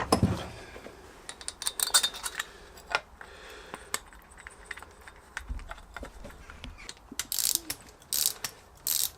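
Ratchet tightening a bolt on a pit bike engine, bursts of quick clicking pawl strokes separated by pauses, with clinks and handling noise between them at close range.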